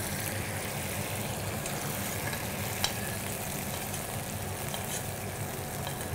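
Sesame oil poured down the side of a hot wok with pan-fried halibut, giving a continuous even sizzle with a faint low hum underneath and one sharp tick partway through.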